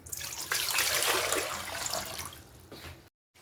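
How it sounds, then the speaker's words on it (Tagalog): Water pours steadily into a cooking pot while vegetables for a Visayan law-uy soup are prepared, a loud continuous splashing rush for about three seconds before cutting off abruptly. "Maglagay tayong tubig."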